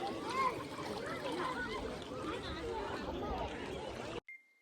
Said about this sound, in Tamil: தண்ணி வேணால் நல்லா ஓடுதுங்க ஃப்ரெண்ட்ஸ்